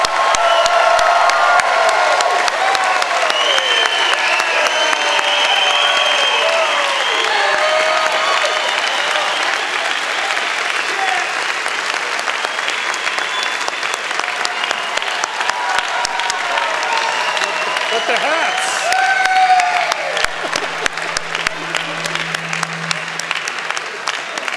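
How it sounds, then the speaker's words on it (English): A convocation audience applauds the graduating class, with sustained loud clapping mixed with cheers and whoops from a large crowd, continuing steadily throughout and swelling briefly near the end. "please join me in a round of applause acknowledging our graduating class of 2016"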